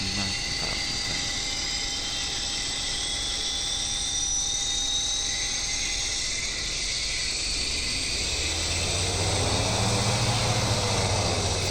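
A PMDG J41 turboprop engine starts up in the FSX flight simulator, with a sustained whining turbine drone and high tones that rise and thicken as it spools up toward the end.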